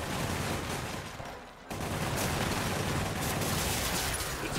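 Gunfire erupts in the Spider-Man Remastered video game, a dense, continuous barrage of rapid shots that dips briefly into a short lull before resuming at full intensity.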